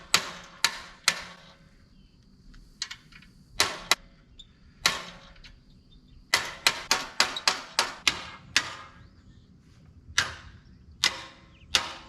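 Sharp, irregular hammer blows on rivets while working on a Chevy crew cab, loud metallic strikes coming singly and in quick bursts with short pauses between, close and alone without talk.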